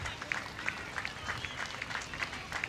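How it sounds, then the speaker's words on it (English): A crowd at a Fourth of July parade in Edina, 2016, claps and cheers for veterans, with steady, moderately distant applause and voices talking over it. "Everyone loves to stand up and cheer and wave."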